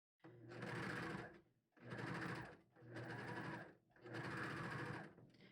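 A sewing machine runs close up, stitching the side seam of a t-shirt in four sustained bursts of fast, whirring stitching with brief pauses between them.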